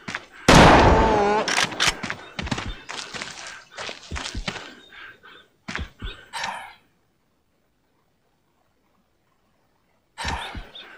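Rifle shots in a PS2 hunting video game, a series of sharp reports with a loud first shot followed by quieter ones spaced irregularly, then silence and one final burst; voices speak over the action.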